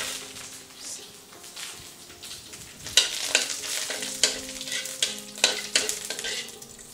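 Curry leaves and mustard seeds frying in a pan over low to medium heat, a crackling sizzle with sharp spluttering pops that grow denser and louder partway through.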